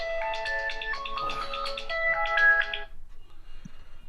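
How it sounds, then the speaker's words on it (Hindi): A mobile phone rings during a classroom lesson, playing a bright melodic ringtone in two quick tuneful phrases that stop abruptly, leaving a quiet room. "आगे फोन आ रहा है सर आपका?"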